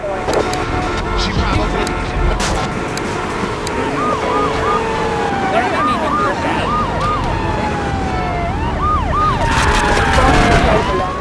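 A wailing police siren in Grand Theft Auto III rises and falls repeatedly over dense game sound and engine noise, with a voice talking over it.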